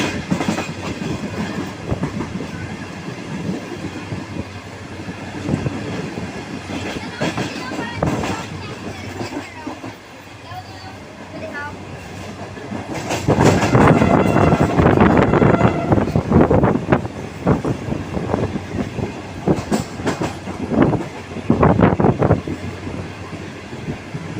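Aboard the Awam Express as it runs through a station on the Karachi line: steady rumbling rail noise and clickety-clack from the wheels with wind buffeting the microphone, swelling louder midway, heard from inside the moving train.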